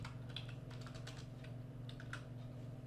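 Steady typing on a computer keyboard while entering a comment line in Excel VBA macro code, quick soft key clicks in uneven bursts over a constant low hum.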